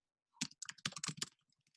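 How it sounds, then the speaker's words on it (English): Quick bursts of keystrokes on a computer keyboard, close and crisp, in a short uneven flurry of clicks that trails off into a few lighter taps. "I have to type in a title of it."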